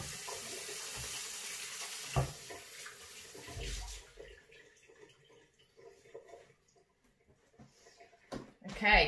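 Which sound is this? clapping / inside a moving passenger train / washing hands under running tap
washing hands under running tap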